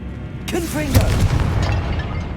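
A blasting spell cast in Hogwarts Legacy, a sharp burst followed by a low rumbling boom, with a voice speaking over it.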